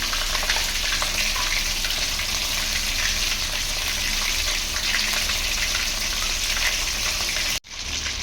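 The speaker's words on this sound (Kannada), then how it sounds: "ಜಸ್ಟ್ ಹಾಕಿದ್ದೀವಿ ಆಯಿಲಲ್ಲಿ ಬೇಯ್ತಾ ಇದೆ ಚೆನ್ನಾಗಿ ಬೇಯಬೇಕು" Chicken kebab leg pieces frying in hot oil at home, a loud, steady, bright sizzle that runs close and unbroken for several seconds before cutting off abruptly.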